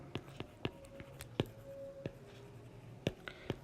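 A teacher writes an example sentence on a board during an English grammar lesson, producing sharp irregular taps and short scratchy strokes, close and fairly quiet.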